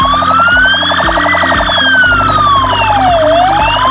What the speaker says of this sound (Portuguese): utilize uma sirene diferente de quem já está na ocorrência